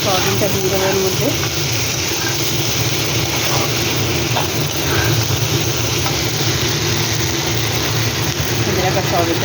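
Pre-fried soybeans go into a pan of cooked spiced masala with ginger paste, giving a loud, continuous sizzle with stirring scrapes throughout, while a person talks over it.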